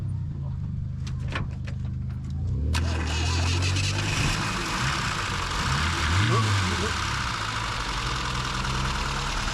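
A small engine in a ZAZ Tavria car idles roughly and unevenly, its steady drone rising after a few seconds of light clicking, with someone speaking over it; the engine shakes and revs drop, with a cooling system fault.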